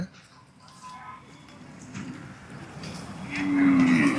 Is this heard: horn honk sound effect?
no